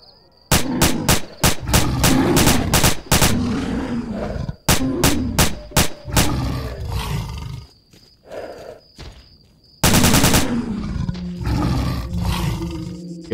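In S.T.A.L.K.E.R., machine gun fire hammers out in rapid, loud bursts with short breaks, mixed with growling creature roars, footsteps and other game noise.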